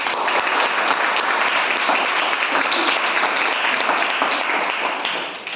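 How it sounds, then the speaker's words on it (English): Audience clapping at a school debate session, a dense, steady wash of many hands that holds loud and even before tapering slightly at the end. "Well, clap for this."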